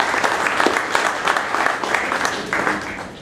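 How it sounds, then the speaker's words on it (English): An audience at an Alpena CRTC Michigan AFA event breaks into loud, sustained applause, dense clapping that carries on without letup before easing slightly at the end. "So a big round of applause for, people just championing the right stuff."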